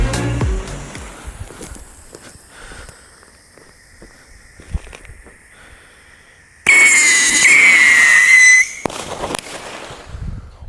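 "Wan Jian Qi Fa" fireworks going off outdoors with scattered pops and crackles, then a loud shrieking whistle burst lasting about two seconds, followed by another sharp crack and fading crackle.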